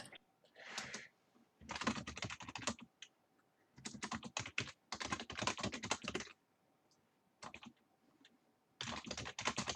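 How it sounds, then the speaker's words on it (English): Computer keyboard typing as a sound effect comes in bursts of rapid clicking separated by short pauses, close and crisp, with a faint steady hum underneath. "A lot of typing."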